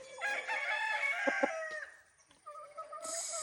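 A Golden Boy Sweater gamefowl rooster on a game farm crows nearby, one loud drawn-out cock-a-doodle-doo followed by a shorter second call, with faint clucking and background birds.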